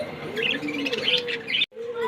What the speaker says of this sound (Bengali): এক জোড়া ডায়মন্ড ডব দেখেন খুবই সুন্দর